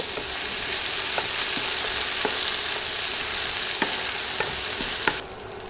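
Three medium sliced onions frying in a pan for an okra dish, with a loud, dense sizzle close up and regular scraping stirs, until the sizzle drops off sharply near the end.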